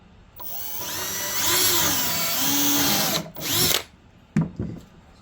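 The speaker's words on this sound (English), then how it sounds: "let's go ahead and start countersinking these in." A power drill countersinks screws into a workbench top, a loud sustained whine for about three seconds, then a couple of shorter bursts with brief pauses between them, close by with no talking.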